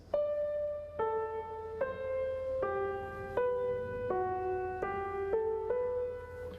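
An inverted fugue plays on a sustained, organ-like instrument, its themes turned upside down, with moving melodic lines shifting step by step in a steady rhythm, alone and clear.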